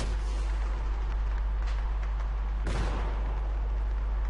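A grenade explodes in Battlefield 3 with a sharp broadband blast near the middle, rising out of a dense, continuous wash of battlefield noise and distant gunfire.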